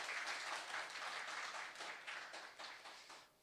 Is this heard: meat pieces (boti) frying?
no